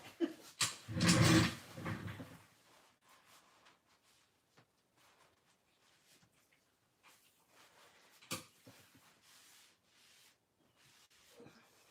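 A dog makes a loud, close burst of sound early on, then soft scattered rustles and light knocks follow in a mostly quiet room.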